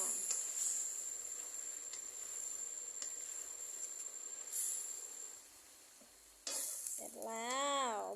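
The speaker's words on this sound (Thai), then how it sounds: "ใส่ใบมะกรูดค่ะ เพิ่มความหอมด้วยใบมะกรูด แล้วคนให้เข้ากันค่ะ" Catfish stir-fry with kaffir lime leaves is stirred in a hot pan, giving close, steady sizzling with scraping strokes. A louder burst comes near the end along with a brief warbling, voice-like tone.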